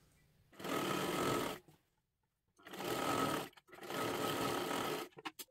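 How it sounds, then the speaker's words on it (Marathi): A sewing machine stitches a princess-style blouse in three separate whirring bursts, the motor running steadily for about a second each time with short quiet pauses between. "आता इथून आपल्याला शिलाई मारत मारत घ्यायचं आहे अशा पद्धतीने पूर्ण।"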